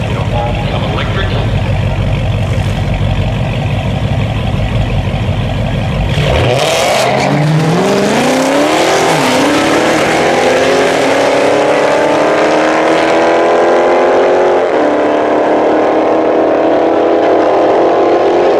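A Dodge Charger Hellcat Daytona V8 idles with a heavy, loud rumble, then is revved hard; the engine note sweeps up sharply and holds a loud, rising roar close by.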